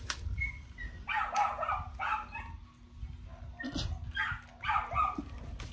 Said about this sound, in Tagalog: maingay yung aso sa loob